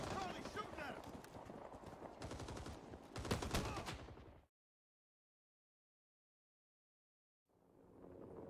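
Rapid gunfire rattles in a Rising Storm 2: Vietnam firefight, loud clustered shots under voices for about four seconds, then sudden silence before the battle noise fades back in.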